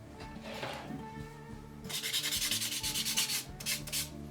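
Wood being sanded in a home woodworking session: steady rasping strokes, softer at first and then louder and rhythmic with repeated back-and-forth passes, close and alone with no talk.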